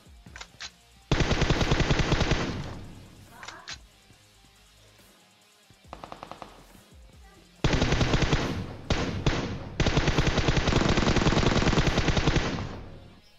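Rapid automatic bursts from an M4 rifle in a shooter video game, long loud rattling volleys broken by single shots and quieter gaps, with more distant gunfire between them.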